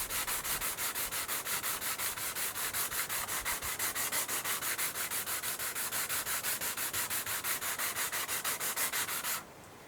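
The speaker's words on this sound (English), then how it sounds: "Thus a little bit more sanding is needed." Sandpaper of 240 grit rubs across the varnished carbon fiber coaming of a kayak in fast, even back-and-forth strokes, close and steady, stopping just before the end.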